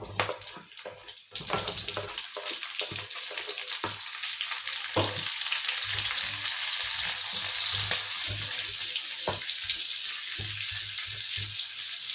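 Onions sizzling and frying in a pan for a Filipino vegetable dish, a steady close hiss broken by repeated sharp stirring scrapes and clacks throughout.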